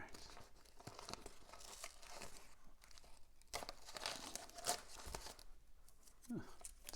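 Masking tape peeled off a 1/350 scale RMS Titanic plastic model, a run of close crinkling tears and rips in quick bursts, with a brief murmured voice near the end.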